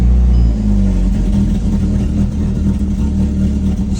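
A 2006-2009 Mark V VW GTI with a bad turbo starts up and runs, a loud close engine catching then settling into a rough, rumbling idle.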